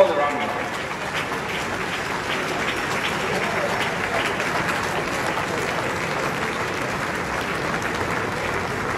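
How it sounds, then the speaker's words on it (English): A convocation audience applauds a graduate with steady, dense clapping that holds at an even level throughout, sustained and close, with no words spoken over it. "Please let's continue to give her a round of applause"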